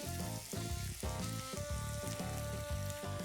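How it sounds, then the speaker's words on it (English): Onions frying and sizzling in a pan while being stirred, a loud steady sizzle with pulsing scrapes and no voices. "Give this a good stir and fry the onions till golden brown."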